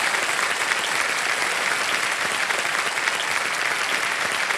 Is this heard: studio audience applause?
yes